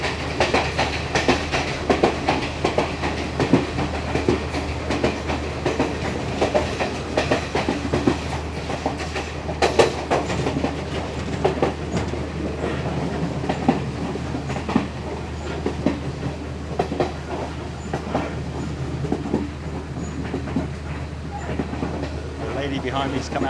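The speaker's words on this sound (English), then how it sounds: "You don't get train rides like this" Sri Lankan passenger train running from Colombo to Kandy, with a steady rumble and continuous rhythmic clickety-clack of wheels over rail joints heard from on board, while a voice talks now and then over the noise.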